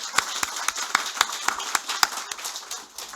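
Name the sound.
congregation applause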